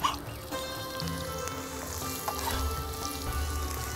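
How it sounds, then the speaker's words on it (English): Onions frying in hot oil in a hot pan, a steady close sizzle running throughout with faint stirring scrapes and occasional pops. "the pan is hot, add the oil in it, and let the onions get translucent first"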